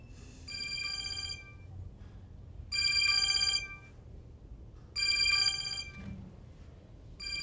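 A telephone bell rings in three separate bursts with pauses between them, over a low background rumble.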